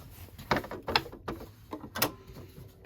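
A sewing machine stitches fabric for a McCall's 8358 wrap dress, close by, in short mechanical whirring bursts with clicks and brief pauses between runs.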